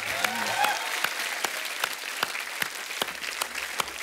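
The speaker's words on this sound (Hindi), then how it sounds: "जोरदार ताली" Studio audience applause at The Kapil Sharma Show, a dense, steady clapping that stays loud from start to finish with sharp individual claps standing out.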